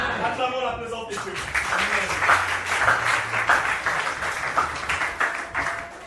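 A church congregation breaks into loud applause that swells and continues after a voice speaks briefly at the start, with rapid overlapping claps filling the room.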